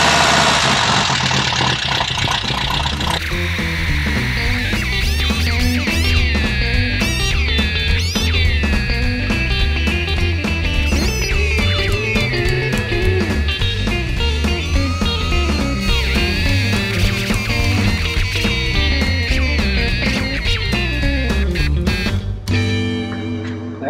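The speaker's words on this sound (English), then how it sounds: "I'm going to spend a few moments and get this carburetor dialed in" A VW sand rail engine idles and revs continuously up close while its carburetor is tuned, a loud rough mechanical drone with shifting pitch and rhythmic knocking that cuts off near the end.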